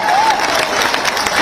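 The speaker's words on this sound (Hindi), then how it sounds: "बजाओ जोर से ताली" A large outdoor crowd claps continuously at a political rally in Gurua, Gaya, Bihar, a dense steady wash of applause with a voice briefly audible over it.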